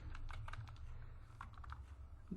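Computer keyboard keys are typed in quick, irregular bursts of light clicks, faint and close, over a low steady background hum.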